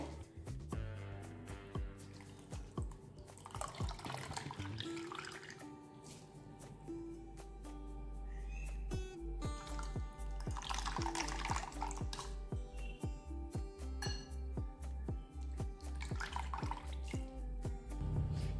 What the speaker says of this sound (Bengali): এবার এই নুন জল থেকে কচুটাকে ভালো করে এভাবে চিপড়ে চিপড়ে উঠিয়ে নেব